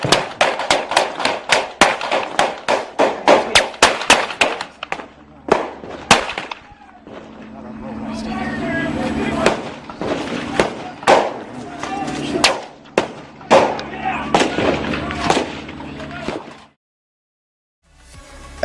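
Rapid bursts of gunfire crack out in quick succession, loud and sharp, during the Waco siege, then thin into scattered shots over a low rumble with some voices underneath before cutting off.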